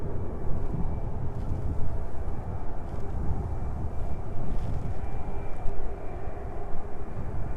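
An aircraft descending toward East Midlands Airport, a continuous low engine rumble and roar that holds steady and fairly loud throughout, with no voices.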